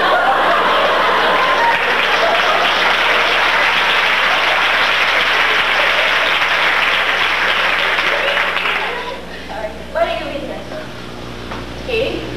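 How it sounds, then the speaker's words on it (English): A concert audience at a SUNY Binghamton spring sing event gives loud, sustained applause that fills the room for about nine seconds, then fades into scattered clapping and murmured chatter. "Wait for applause."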